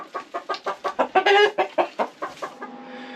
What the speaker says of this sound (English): He's a big bird.